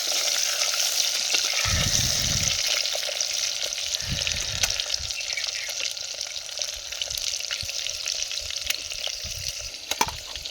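Eggs fry in a clay pot over a wood fire with a steady, bright sizzle throughout, broken by a few low stirring scrapes and knocks.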